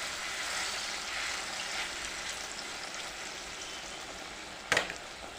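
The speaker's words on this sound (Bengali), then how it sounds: "আমি এরকম আকারে একটু বড় বড় সাইজ করে এগুলো ভেজে নিচ্ছি।" Large kofta-like pieces fry slowly in a pan over a medium gas flame, giving a steady soft sizzle throughout, with one brief sharp click near the end.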